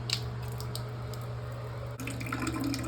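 Water trickles and drips steadily from a freshly cut pipe into a catch bowl under a sink, close and fairly quiet, with a low hum beneath and a slightly fuller splashing after a brief break.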